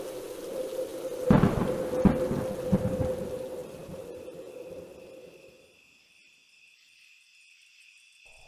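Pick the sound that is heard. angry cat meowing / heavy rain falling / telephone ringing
heavy rain falling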